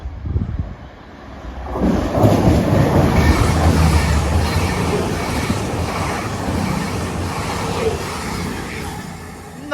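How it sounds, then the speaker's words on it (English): A CrossCountry passenger train on the Bristol Temple Meads to Manchester Piccadilly service roars past close by at Kidsgrove, with loud rumbling wheels and some squeal. The noise surges after a quieter start and stays heavy to the end. "cross-country service from Bristol Temple Meads to Manchester Piccadilly"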